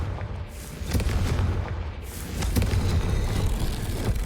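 A Confringo fire spell in Hogwarts Legacy bursts against stone braziers, igniting them. Two or three booming whooshes of flame land in a row over a rumbling game soundscape.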